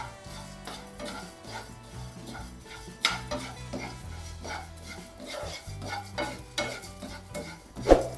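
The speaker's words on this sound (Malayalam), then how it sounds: "ഇതെല്ലാം കൂടെ ഒന്ന് വറുത്തെടുക്കാം." Coriander seeds, black pepper and cumin are dry-roasted in a pan, the spoon stirring and scraping the seeds in a steady rhythm under soft background music.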